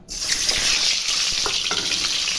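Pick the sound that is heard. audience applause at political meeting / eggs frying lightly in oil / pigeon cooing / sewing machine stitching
eggs frying lightly in oil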